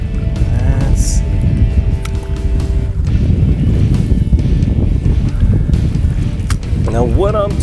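Strong wind blows over a lake at Alum Creek Reservoir during bass fishing, a loud buffeting rumble against the microphone that runs the whole time. Someone talks over it.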